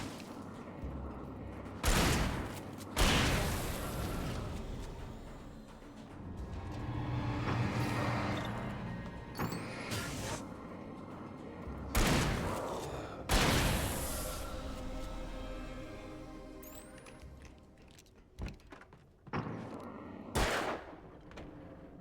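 Gunshots ring out in the video game Alan Wake, a few sharp, loud reports spaced several seconds apart, each trailing into a brief decay over quieter ambient game sounds between them.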